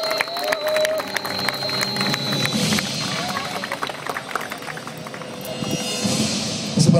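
Game-show studio audience clapping warmly for a contestant, a dense patter of applause with some cheering, a host's voice over it at moments.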